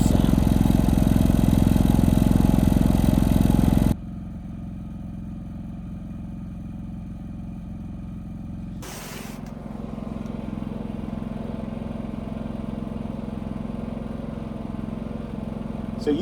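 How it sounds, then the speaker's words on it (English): A loud generator engine drones steadily, then cuts to a much quieter, muffled running hum through a Zombie Box exhaust muffler that continues evenly after a brief clunk. "So when we start this generator, the exhaust goes out the Zombie Box."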